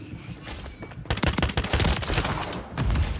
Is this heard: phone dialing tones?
no